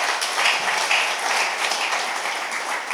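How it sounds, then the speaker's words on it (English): Steady applause from an audience after a mental health talk by Dr. D. Machando at a family life session, a dense even clapping that fills the whole stretch without voices. "A big round of applause, please,"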